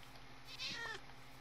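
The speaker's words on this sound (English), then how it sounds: "Do cats give me anything?" A Minecraft cat gives a single soft meow near the middle, faint against a quiet background.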